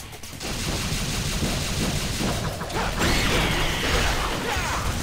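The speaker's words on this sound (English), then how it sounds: "so you shoot them until they turn to stone, I guess" Rapid gunfire and crashing impacts from Devil May Cry 3 gameplay, loud and continuous, with bursts and metallic clatter filling the whole stretch.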